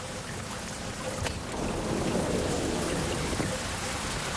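Steady rain pattering on a surface, a continuous wash of drops that grows a little louder partway through, with no voices.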